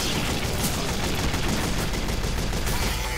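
Dense, continuous automatic gunfire in a video game monster battle, a loud unbroken rattle of rapid shots with no gaps, filling the whole moment without talk.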